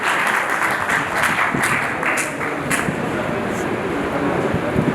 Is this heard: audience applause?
yes